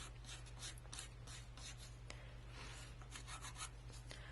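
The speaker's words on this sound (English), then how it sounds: "And I can sand this the same way." Quiet, steady rasping strokes of sanding on a small precious metal clay silver piece, close and faint, with a low background hum.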